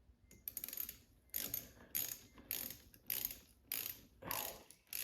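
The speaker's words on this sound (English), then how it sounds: "you take your 7mm socket and tighten this up as well" A ratchet with a 7mm socket tightens an air filter housing bolt on an Audi RS5 engine, sounding as a series of rhythmic close clicking ratchet strokes separated by brief pauses.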